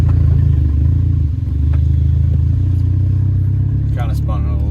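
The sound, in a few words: Volkswagen MK4 GTI driving, tire spinning briefly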